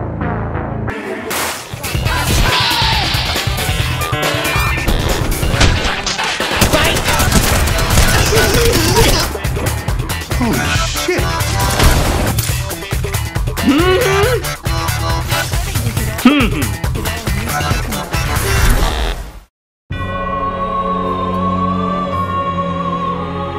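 A Tommy gun fires in a video game set in Night City in 2077: dense, rapid gunfire and explosions run almost nonstop and loud for about twenty seconds, then cut abruptly to quieter music.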